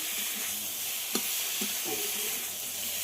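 Cauliflower and potato with spices fry in a pan, giving a steady close sizzle with a few soft stirring scrapes and a single sharp knock partway through.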